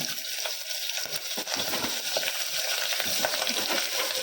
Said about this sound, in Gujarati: એમાં હવે આપણે આ ખડા મસાલા નાખી દઈએ। પછી આ લસણ, મરચાં અને આદુ એ નાખી દઈએ